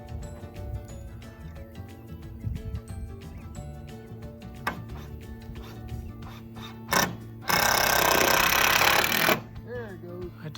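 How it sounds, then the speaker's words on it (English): Wood being fastened onto a chicken coop roof, with repeated sharp tapping and clicking of tools, a brief burst from a power screwdriver or drill, and people talking in the background. "We're attaching the wood to the roof."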